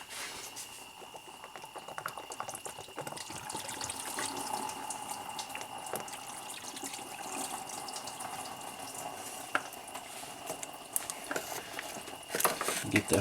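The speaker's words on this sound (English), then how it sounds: "Make sure our fluid is draining. Here, hitting the drain pan." Engine coolant runs out of the thermostat housing of a Buick LaCrosse with a 3800 engine and splashes into a drain pan, a steady close trickling wash with scattered drips and ticks throughout.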